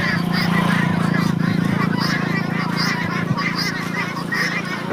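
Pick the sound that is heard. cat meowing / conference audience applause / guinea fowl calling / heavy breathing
guinea fowl calling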